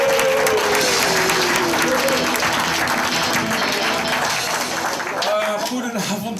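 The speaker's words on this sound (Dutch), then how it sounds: "En een keihard applaus voor nieuwe kinderen van Chris van der Hebben," A comedy club audience gives loud, continuous applause and cheering for a comedian, the clapping dense and sustained throughout, with a voice heard briefly near the start.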